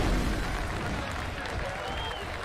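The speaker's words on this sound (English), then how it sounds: "The tiniest cheer for OG." A large esports crowd at The International 2021 cheers and applauds for OG during a Dota 2 match, a steady dense roar of clapping and voices with a caster talking over it.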